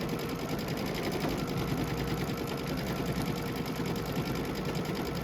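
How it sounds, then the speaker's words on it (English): Embroidery sewing machine stitching out a custom quilting design, a steady, loud, continuous mechanical hum with rapid needle rhythm throughout. "this stitch out here is only 4 minutes, so we're going to let that stitch out"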